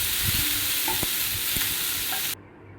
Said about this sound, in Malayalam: നന്നായിട്ടൊന്ന് ഇളക്കി യോജിപ്പിക്കണം.